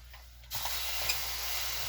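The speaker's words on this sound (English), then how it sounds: "I suppose I'm giving it a bit of a treatment here with this steaming." A steam iron releases a sudden, steady hiss of steam while pressing kilt canvas, the broad rush starting abruptly and continuing loud and close over a low hum.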